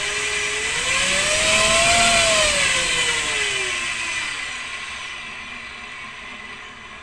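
A waterproofed electric motor driven by an ESC spins underwater in a leaking tank, giving a whining tone that rises in pitch, peaks, then slowly winds down, steady and fairly loud with no talk.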